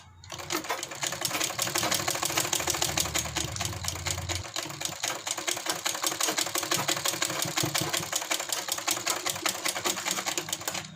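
Sewing machine running steadily as it stitches a strip onto fabric for an angrakha neck, a fast continuous mechanical whir with dense rhythmic needle clatter throughout, close and fairly loud with no talking.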